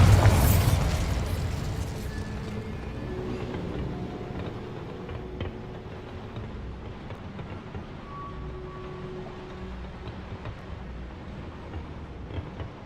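A Bombarda spell explodes in the Hogwarts Legacy video game, with a loud burst at the start that settles into a long, rumbling decay. Faint tonal game sounds linger in the background.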